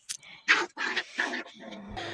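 Foster puppies about five weeks old eating breakfast in their pen, with close, irregular bursts of lapping, chewing and snuffling, plus small whimpers and bowl clatter.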